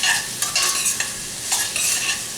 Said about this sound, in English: We're just going to sweat the onions. Get these suckers moving around.